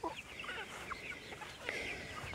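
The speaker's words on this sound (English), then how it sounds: "Chickens everywhere." Several chickens cluck and chatter close by in quick, uneven bursts, with a few higher squawks mixed in.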